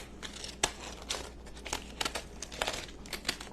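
Pinking shears snipping through fabric to cut out a gingerbread man shape, a quick series of crisp crinkly cuts with soft rustling between them, close and quiet.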